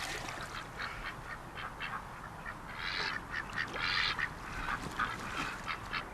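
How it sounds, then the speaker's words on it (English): Ducks quacking at a wildlife rescue release, a run of raspy calls in uneven bursts that grow louder partway through, heard outdoors over a rough background hiss. "The duck we just released"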